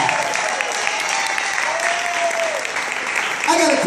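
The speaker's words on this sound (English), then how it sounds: "So stand up and help me give a nice round of applause for you, baby" Audience applause at a tribute and old-school music show: steady crowd clapping throughout, with a brief whistle-like tone partway through and a louder swell near the end.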